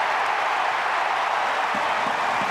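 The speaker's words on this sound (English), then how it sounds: "The roar of the crowd tells you the result." Stadium crowd at an AFL match between Carlton and Hawthorn, a broad steady roar and applause after a goal kicked after the siren, distant and continuous with scattered voices.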